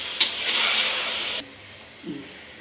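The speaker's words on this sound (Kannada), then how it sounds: "ಬೀನ್ಸು, ನೂಕಲ್ಲು, ಬಟಾಣಿ ಹಾಕೊಂಡು ಚೆನ್ನಾಗಿ ಕಲಸಿ." Beans, knolkhol and peas stirred in a hot pan, a steady sizzling hiss with a brief knock, cutting off partway and leaving quiet low room noise.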